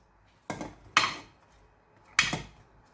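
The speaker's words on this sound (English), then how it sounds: "I'm just going to add some onions" Onions tipped into a cooking pot holding turkey, giving three sharp clattering impacts of pieces and utensil against the pot, spaced apart with quiet between, close and moderately loud, no talking.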